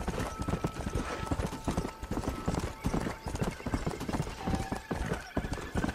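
Horse galloping in the zombie western game Red Dead Redemption: Undead Nightmare, a fast, steady clip-clop of hooves close up and continuous throughout, with a brief whinny-like tone partway through.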